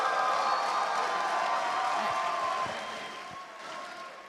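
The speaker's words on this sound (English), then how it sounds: "Let's give a round of applause." A crowd applauds and cheers for a chess player at a USA versus India match, a broad wash of clapping and whoops that fades gradually toward the end.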